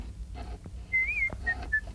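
A person whistles in a scene from the film The Magic Sword: one long, wavering tone followed by two short chirps, loud and close over a low background rumble.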